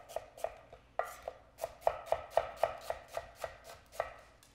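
A knife chops vegetables on a cutting board while a basic stew is being made, in a quick run of about fifteen sharp, close taps with an uneven rhythm and no talk over them.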